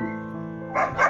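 Young puppies bark and yip close by in a short excited burst, over a brief whining tone, at a large dog shelter.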